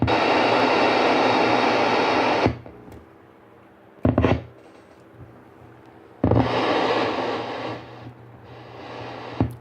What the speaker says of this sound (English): but yeah, that's white noise.